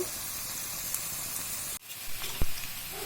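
Sliced ivy gourd sizzles steadily in a hot pan with a dense, even hiss, broken by a brief cut partway through, then resumes with a soft low knock from the pan; no one speaks.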